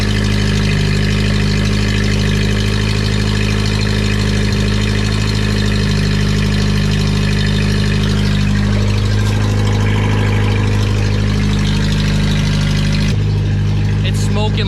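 A car engine idles loudly and steadily right after its very first start-up, a thick, constant low rumble with slight rises in revs, dusty and oily and smoking, close up throughout, cutting off abruptly near the end.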